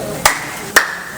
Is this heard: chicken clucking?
no